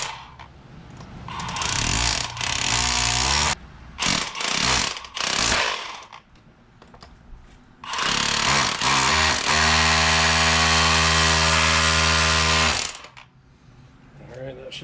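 A power tool fitted with a chisel bit hammers a ground rod into the ground, loud rattling bursts in several runs separated by short pauses, then one long sustained hammering stretch, up close.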